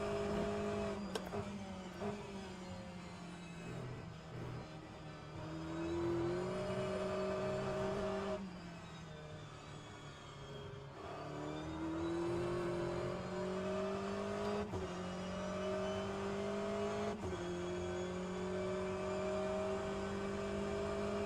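A GTE race car engine revving in wet conditions at Sebring in the video game rFactor 2, a steady droning note that rises through several gear changes, dropping and climbing again over about twenty seconds.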